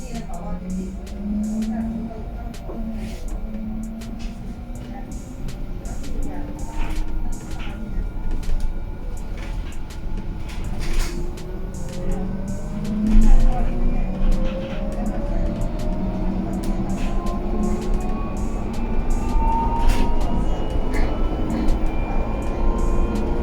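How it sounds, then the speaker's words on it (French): An electric Heuliez GX137L bus driving, with a steady low rumble of road noise and rising and falling motor whine tones, continuous and fairly close, with some rattles on top. "on entend que le bus roule, mais ce n'est pas du tout gênant"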